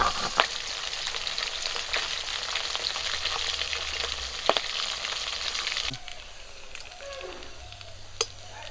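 Pabda fish sizzle loudly in hot oil, a continuous close crackle broken by occasional sharp pops, then the sizzle drops to a softer hiss with a few clinks near the end.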